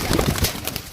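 Rare-breed house pigeons coo in a short, soft burst of low throaty calls, close by, with no talking.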